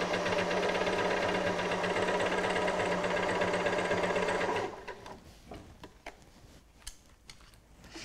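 Sewing machine stitching piping, a fast steady mechanical whirr for about four and a half seconds, then stopping, followed by quiet handling clicks and rustles.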